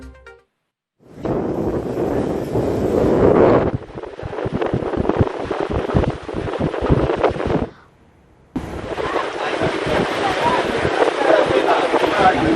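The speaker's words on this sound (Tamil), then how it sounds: "நாகை சுற்றுவட்டார பகுதிகளான பாப்பா கோயில், புத்தூர் உள்ளிட்ட இடங்களில் சூறை காற்று வீசுகிறது" Strong gale wind of a cyclone blowing near Nagapattinam, a loud rushing roar battering the microphone in long stretches, briefly cut by near-silent gaps, with a voice talking over it.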